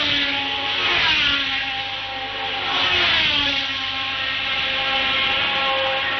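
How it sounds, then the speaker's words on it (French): A 1971 Formula 1 racing car engine at the Spanish Grand Prix drones at high pitch, its tone rising and falling in sweeping waves as it passes and revs, steady and fairly loud. "le moteur de Claire Regazzoni semble émettre un son assez curieux"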